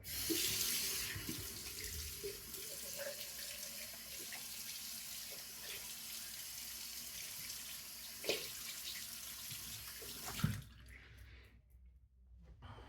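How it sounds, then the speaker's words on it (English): Bathroom tap running into a sink while someone rinses their face after shaving, a steady close splashing flow with occasional louder splashes, ending abruptly as the water shuts off. "Let me rinse my face off."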